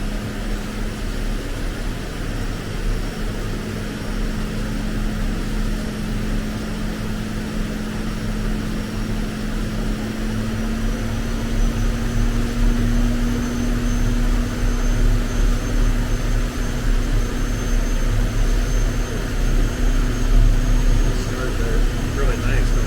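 A gas turbine engine idles on a shop dynamometer, its compressor spinning at about 10,700 RPM, giving a steady loud whine and roar with a sustained tone that rises slightly partway through, continuous and close.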